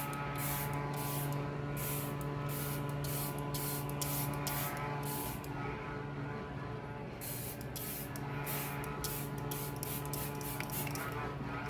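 Charlotte Tilbury setting spray misted in repeated short bursts while a small handheld fan runs on its second setting, giving a steady close whir under the rhythmic hissing spritzes.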